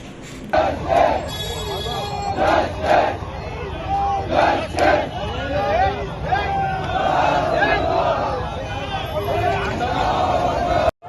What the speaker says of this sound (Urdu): نعرے لگاتے ہوئے احتجاج کیا گیا